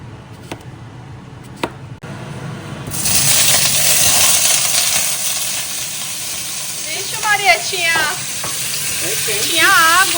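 Food grilling in a small splash of oil in a home kitchen pan gives a loud, steady sizzle that swells up after a quieter start, with clinks of utensils and brief voices over it.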